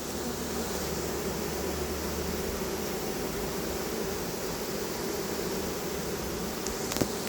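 A swarm of honeybees buzzes densely around a cardboard box during the hiving of a captured swarm, a steady, continuous drone close by with no talking.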